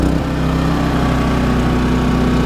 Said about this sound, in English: if you ever have any questions concerning the Champion generator, 3100 watt, max 2800, put it in the comments down below